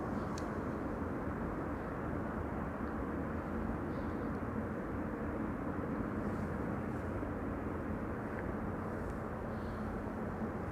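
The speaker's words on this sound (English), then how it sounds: "This is EasyJet flight 28673 arriving from London Gatwick, an A319" An EasyJet Airbus A319 arriving from London Gatwick at Amsterdam Schiphol makes a steady, distant broadband jet rumble that holds evenly throughout, with faint outdoor ambience.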